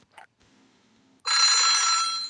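A telephone in the horror video game Otogirisou rings with a loud, steady electronic bell that starts abruptly after a brief quiet stretch and sustains to the end, heard alone without talk.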